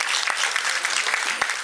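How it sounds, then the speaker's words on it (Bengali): An audience at a devotional palakirtan performance gives dense, steady applause for a singer, with a few louder claps standing out. "দাদার জন্য জোরে একটা হাততালি।"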